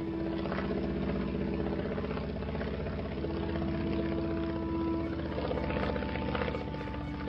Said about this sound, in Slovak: Naše lietadlo práve prelieta vedľa Kalnice